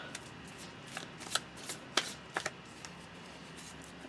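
Tarot cards are shuffled by hand in a quiet room, with soft, irregular riffling and papery slaps and a few sharper taps standing out over several seconds.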